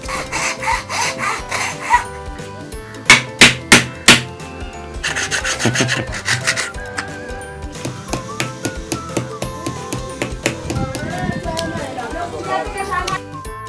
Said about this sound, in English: Sanding, building, sanding again.